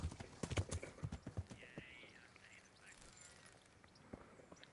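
Horse hooves clip-clop in the medieval video game Kingdom Come Deliverance, a quick run of close hoofbeats that slows and fades, followed by a brief whinny-like call and sparse steps.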